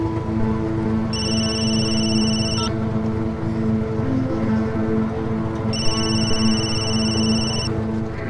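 Two bursts of a bright electronic phone ring sound over a steady engine-like drone, each lasting about a second and a half, separated by a pause of roughly three seconds, fairly loud and close.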